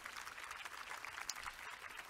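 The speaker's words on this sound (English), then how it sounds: "give her a round of applause" An audience at a monument unveiling event claps in a dense, steady round of applause, moderately loud and sustained without speech over it.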